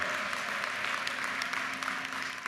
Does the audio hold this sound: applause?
yes